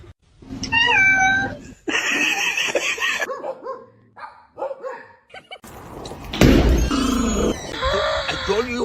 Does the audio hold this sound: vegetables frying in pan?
no